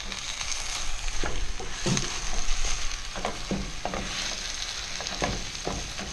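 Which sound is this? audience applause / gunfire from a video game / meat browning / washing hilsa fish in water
meat browning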